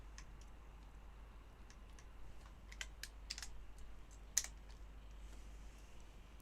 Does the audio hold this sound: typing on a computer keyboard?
yes